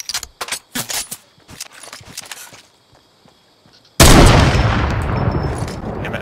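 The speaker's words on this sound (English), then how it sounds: "Gunshot." Gunfire in Fortnite, starting with a rapid series of sharp metallic clatters and shots, then a quiet stretch, then a sudden loud blast that rolls on as a sustained roaring rumble.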